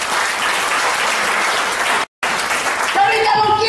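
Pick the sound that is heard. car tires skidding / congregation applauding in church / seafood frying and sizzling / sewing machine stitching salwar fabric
congregation applauding in church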